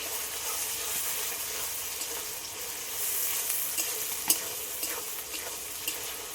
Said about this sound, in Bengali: বেটে রাখা মশলা মশলাটা ভালো করে কষিয়ে নিই